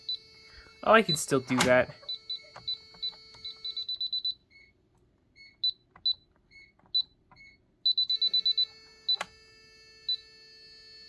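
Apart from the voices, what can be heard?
security alarm keypad beeping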